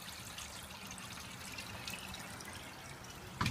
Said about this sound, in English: I've got water flow through that purge point.